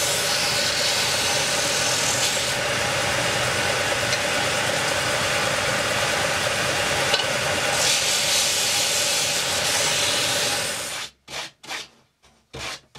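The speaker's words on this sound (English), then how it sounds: "I thought I would clean up all the edges on the sander" Power sander working along the edges of wooden display parts, a steady loud grinding rasp held for about eleven seconds before it cuts off and a few short bursts of handling follow.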